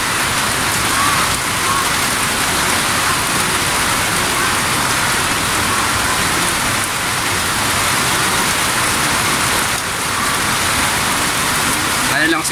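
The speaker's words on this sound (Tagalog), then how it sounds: "Ito nga, bigla bumagsak yung ulan." Heavy rain pours down steadily in a sudden downpour, a loud, dense, continuous hiss of drops hitting surfaces nearby with no letup across the whole stretch.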